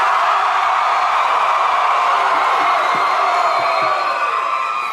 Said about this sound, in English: This is a large, loud, and boisterous crowd.